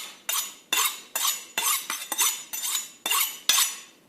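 A sharp kitchen knife slicing through foam onto a wooden block, about nine crisp strokes in steady rhythm, each a bright rasping swipe ending abruptly, close and with no talk.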